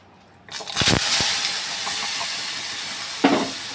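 Ground paste dropped into a hot kadai sets off a sudden, loud, close sizzle that settles into a steady hiss, with a couple of clanks of a utensil against the pan.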